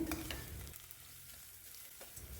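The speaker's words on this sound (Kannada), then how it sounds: "ಈಗ ಇದಕ್ಕೆ ಸಣ್ಣದ ಕಟ್ ಮಾಡಿರೋ ಬೀಟ್ರೂಟ್ ಹಾಕ್ತಿದ್ದೀನಿ" Finely chopped beetroot hits hot oil with frying onions in a pan, giving a sharp burst of sizzling and stirring that settles into a softer, steady crackle close by.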